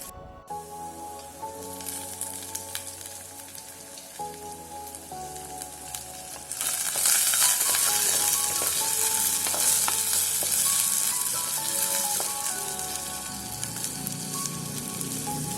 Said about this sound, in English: Let the onions cook for some time and add the sliced tomatoes.